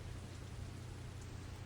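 Steady rain falls in the video game Metal Gear Solid 3: Snake Eater, a dense, continuous wash of noise over a low hum, with no voices.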